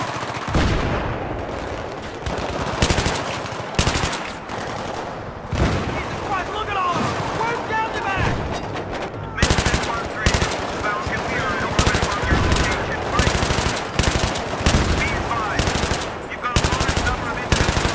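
Rapid bursts of machine gun fire in the video game Battlefield 3, loud and dense, with repeated volleys and occasional booms across the whole stretch.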